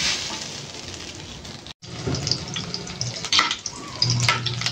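Garlic fried rice (sinangag) fries in a pan with a loud, dense, continuous crackle and sizzle. A brief silent gap breaks it early on, then the frying resumes with occasional sharper pops and scrapes.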